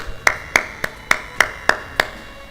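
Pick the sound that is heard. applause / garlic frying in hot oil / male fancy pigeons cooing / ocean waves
applause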